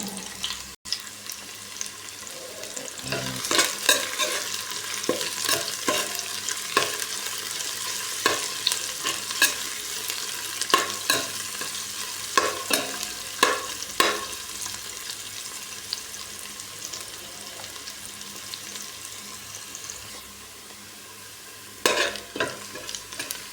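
Onion sautéing in a frying pan for ginisang ampalaya with shrimp: a steady low sizzle broken by repeated scraping and clattering strokes of a utensil stirring against the pan, heard close with no voices.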